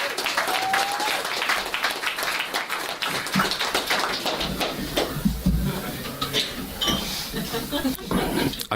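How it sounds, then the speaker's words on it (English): An audience at the Screaming Pope Prize 2015 event breaks into dense, lively applause that carries on throughout, with scattered voices and a few cheers mixed into the clapping. "So I'm just going to give ye a round of applause for that."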